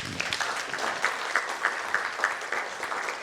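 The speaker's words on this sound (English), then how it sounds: "can we welcome Mr. Mohit with big round of applause?" Conference audience at an L&D summit and awards event applauding to welcome a speaker, a steady wash of many hands clapping with rhythmic accented bursts, fairly close.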